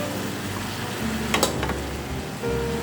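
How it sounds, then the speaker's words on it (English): Boiled, seasoned basmati rice hits a hot pan and fries with a loud, steady sizzle, briefly flaring as the grains are stirred and settle, with nobody talking. "Add in the rice."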